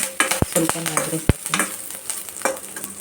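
Cumin seeds, curry leaves and a little coriander frying in hot oil in a pan, a close crackling sizzle punctuated by several sharp spatula knocks and scrapes in quick succession.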